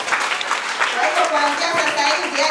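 A church congregation breaks into sustained applause during a testimony service, dense clapping filling the room steadily from start to finish, with voices mixed in.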